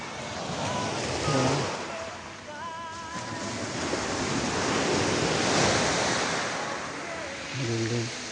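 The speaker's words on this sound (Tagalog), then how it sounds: "lakas ng ano, di ba? Alon, lakas ng alon." Strong ocean waves crash and roll in a steady loud wash on a Bicol shore at dawn, with wind buffeting the microphone and voices talking briefly over the surf.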